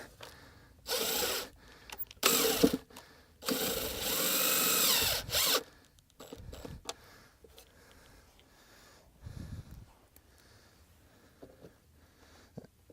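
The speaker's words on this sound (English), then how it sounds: "put it in reverse, and you can just use the drill" A power drill whirs in several short bursts, close and fairly loud, as it drives screws into Hardie board siding outdoors, followed by quieter handling noises.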